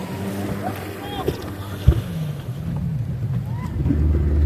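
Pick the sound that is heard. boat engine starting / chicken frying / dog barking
boat engine starting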